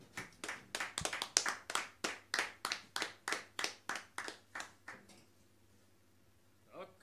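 Rhythmic clapping at an award presentation, about a dozen even, close claps in a steady beat, stopping after several seconds before a brief low voice.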